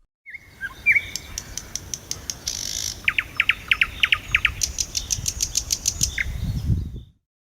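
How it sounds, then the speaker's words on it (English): A nightingale sings a lively series of sharp, rapid chirps and whistles, bright and close, with short bursts following one another in quick rhythm and no talking. "nightingale"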